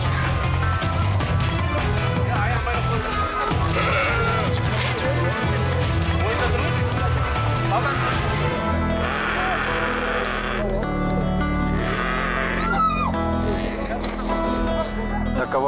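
A lamb bleats repeatedly before slaughter at a traditional Kazakh sacrifice in Turkestan, loud cries in a busy outdoor scene with voices and clatter around it.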